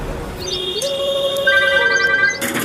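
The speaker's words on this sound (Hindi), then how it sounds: "अब किसका फोन आ गया?" A phone ringtone plays a short chirpy electronic melody of sliding, bird-like tones, fairly loud and close, over faint room noise.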